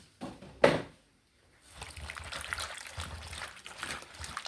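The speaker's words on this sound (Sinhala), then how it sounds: "ඉතින් ලුණු වතුර ටිකක් දාලා පොඩ්ඩක් සෝදගමු." Katu anoda fruit being washed in salt water: a short splash and slosh early on, then a pause and continued soft swishing and trickling water, moderately close.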